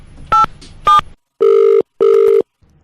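A telephone line clicks through two short dialing tones, then two longer ring tones sound, loud and close, before falling quiet at the end of a call being placed.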